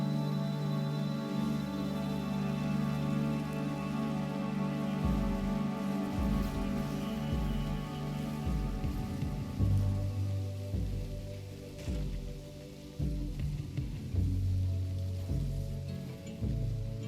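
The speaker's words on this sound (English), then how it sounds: "They're gonna rain the whole way bloody there." Rain falling in the video game Death Stranding, a soft, constant hiss of drops spread under sustained droning musical tones that shift and pulse throughout, with no talking.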